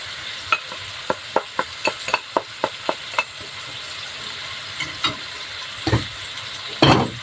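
Chicken feet in tomato sauce are stirred in a sizzling pan, a spoon tapping and scraping in a quick regular series over steady frying hiss, followed by a few louder scrapes.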